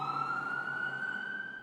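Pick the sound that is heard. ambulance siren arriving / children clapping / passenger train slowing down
ambulance siren arriving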